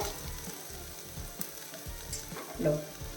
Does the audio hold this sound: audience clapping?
no